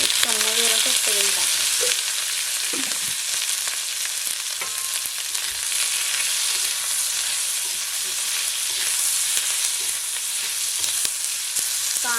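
Onion roasting in oil for a Konkan-style Maharashtrian goda masala, a steady close sizzle of frying with occasional scraping stirs, continuous throughout with no talking.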